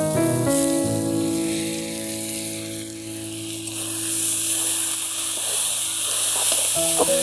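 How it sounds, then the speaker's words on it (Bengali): Soaked masoor lentils tipped into a hot kadai for pat shak dal, bursting into a loud, close sizzle that settles into continuous frying crackle under a sustained musical tone. "এবার ডালটা কড়াইতে দিব।"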